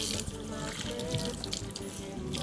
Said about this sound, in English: Give it a little bit of a rinse.